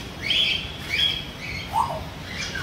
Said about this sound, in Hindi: गागरोनी तोता बोलते इनको अफ्रीकन ग्रे पेरेट बोलते हैं